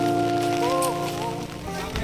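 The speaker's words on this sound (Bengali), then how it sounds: "প্রচুর বৃষ্টি হচ্ছে" Heavy rain pours down at a police training centre as a steady, close wash of hiss, with faint voices and tonal sounds layered over it.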